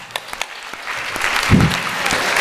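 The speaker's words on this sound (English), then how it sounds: "Round of applause." Crowd at Vegfest starts clapping, a few scattered claps at first swelling into fuller, steady applause from the audience.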